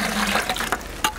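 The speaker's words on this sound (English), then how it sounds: "one thing I'm doing here is getting a bucket of water ready" Water splashing and pouring into a bucket outdoors on a frozen lake while ice fishing for brook trout, a brief steady rush with a few splashy bursts.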